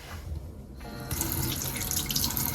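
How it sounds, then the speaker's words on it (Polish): A tap turns on and water runs steadily into a sink, a close, loud, hissing splash after a brief quieter start. "Teraz pewnie nie będziecie słyszeć nic przez szum wody"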